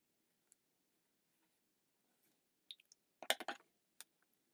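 A pen or marker drawing a smiley face on paper gives faint, sparse scratchy strokes and taps, with a brief cluster of louder squeaky strokes midway, quiet and alone.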